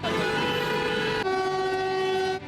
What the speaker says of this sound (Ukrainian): Окрім клаксонів, у місті чутно і гудки багатьох підприємств.